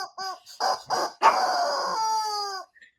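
Several quick squeaks from a squeezed rubber chicken toy build into one long drawn-out squawk, loud and close with no talking.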